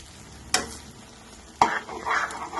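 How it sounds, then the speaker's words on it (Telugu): Prawns frying in oil with curry leaves are stirred in a pan, two sharp scraping strokes of the spoon over a soft, steady sizzle. "బాగా బ్రౌన్ కలర్ వచ్చే వరకు వేయించాలండి నీట్గా. అలా కదుపుకుంటూ ఉండాలి, అడిగంటకూడదు."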